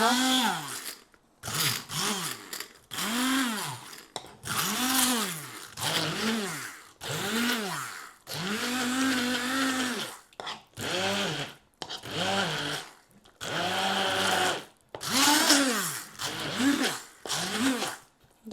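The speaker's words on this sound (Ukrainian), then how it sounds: "Для того, щоб зробити пюре, нам знадобиться поглиблий блендер. Починаємо збивати." A hand blender whirs in repeated bursts, pureeing baby food, its motor pitch rising and falling as it churns, with short pauses between runs.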